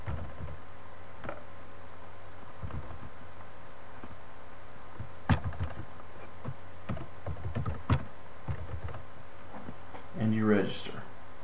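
Fingers type an email address on a computer keyboard, irregular bursts of close, crisp key clicks with pauses between, while a voice briefly talks near the end.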